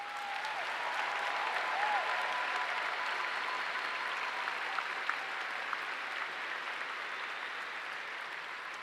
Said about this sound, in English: how about one more round of applause for all of our graduates today?